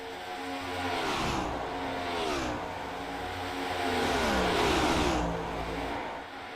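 Several race car engines from a sim racing game with Next Gen and ARCA stock cars, rising and falling in pitch as they rev and pass in a single-file pack, loud and continuous with no talk.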